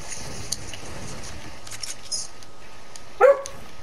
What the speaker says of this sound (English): I'm being bit by a dog.